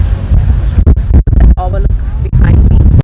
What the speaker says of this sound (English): You already can see the wind.